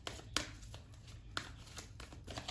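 Tarot cards being shuffled by hand, soft papery riffles and slaps recurring in short bursts, close and quiet with no talking.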